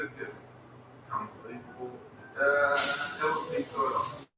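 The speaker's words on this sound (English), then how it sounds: "Now, you hear that sizzle behind me, right?" Flour hits a hot pan partway through, breaking into a loud, bright, hissing sizzle that holds steady under a person talking nearby, then cuts off abruptly.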